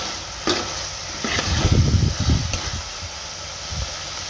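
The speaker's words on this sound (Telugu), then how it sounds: "మెత్తబడేంత వరకు మనమైతే ఫ్రై చేసుకుందాం" Onions and tomatoes frying in oil for Andhra-style coriander dal, a steady close hiss of sizzling broken by scraping stir strokes in the middle, with no voices.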